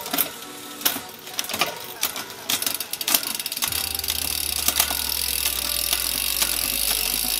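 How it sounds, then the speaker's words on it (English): A mountain bike's drivetrain clicks and ratchets rapidly as the chain is run through the gears and across the cogs, close and busy, later joined by a steady low mechanical hum. "And then I just like to run through the gears as well,"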